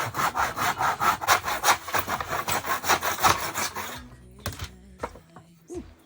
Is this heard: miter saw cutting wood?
yes